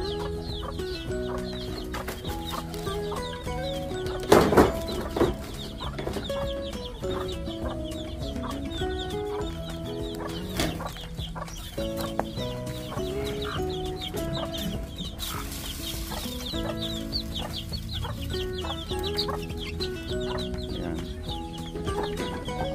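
Bantam hens and chicks a little over a month old cluck and peep steadily at feeding time, a busy close-up flock chorus with a brief louder burst near the start.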